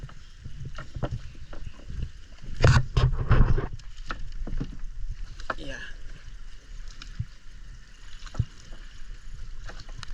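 Small fishing boat rowed with ordinary wooden paddles at sea during net setting, giving scattered splashes and knocking strokes against a low background, with one louder burst of paddling early on and people talking.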